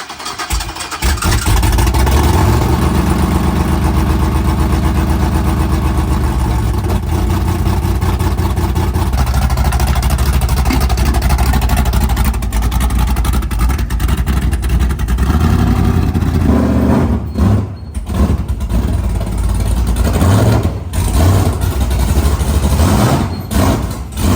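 A heavily modified Cadillac with a new custom exhaust roars loud and close, its engine rumbling and revving in long surges with a few brief dips, unloaded from a trailer outdoors.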